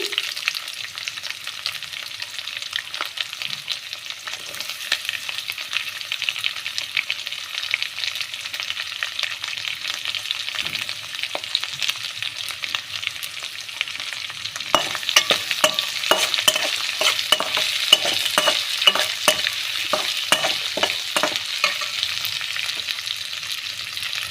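Sliced onions frying in a pan for a radish stir-fry, a steady close sizzle with scattered stirring scrapes that grow busier partway through, and no talking.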